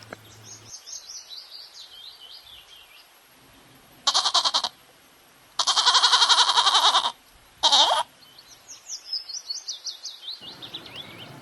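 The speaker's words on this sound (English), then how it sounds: "G for goat" Three loud, harsh bleats in a row, the middle one longest, set against steady birdsong chirping before and after.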